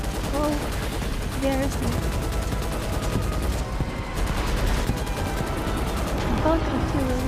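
Bug artillery in a video game, rapid repeated bursts of gunfire-like blasts running throughout, loud and dense, with someone talking briefly over it.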